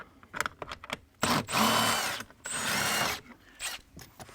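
A screw is driven out of the dash of an Infiniti G37 Coupe, two whirring bursts of a power driver mixed with short clicks and handling knocks nearby.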